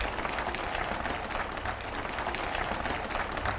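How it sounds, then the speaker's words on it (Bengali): Audience in a lecture hall applauding the mothers present, a steady dense wash of many hands clapping that holds evenly for several seconds with no voices over it. "মায়েদের জন্য করতালি শুনতে চাই"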